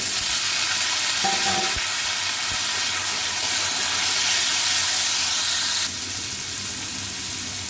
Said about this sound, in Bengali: এখন ধুয়ে রাখা মিষ্টি কুমড়াটা দিয়ে দিব